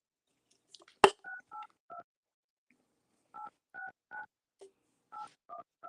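Telephone keypad DTMF tones entering a host PIN: a sharp click followed by a series of short, evenly spaced beeps in two clusters, with silence in between.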